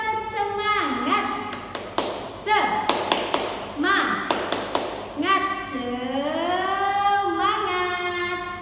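Children at a school join a rhythmic clapping chant, sharp claps landing in a steady pattern beneath loud sung and spoken voices.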